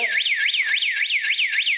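An Ajax alarm system siren sounding in a loud, close, rapidly repeating rising-and-falling electronic wail, about six sweeps in under two seconds.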